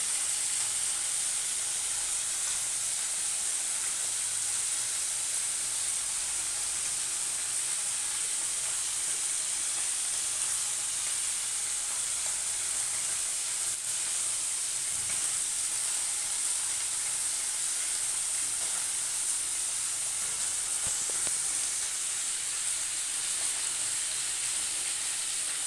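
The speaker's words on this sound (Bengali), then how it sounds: "আর একটু হাতে একটু করে মাছগুলোকে উলট পালট করে হালকাভাবে একটু ভেজে নেবে।" Small mourala fish frying in a pan of oil give a steady, loud, even hiss that holds unbroken throughout, with no voices over it.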